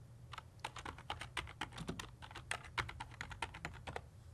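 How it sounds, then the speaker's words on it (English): Quick, irregular keystrokes on a computer keyboard, a burst of clicks typing a short phrase, close and clear over a low steady hum with no voices. "I'm going to type Total Training."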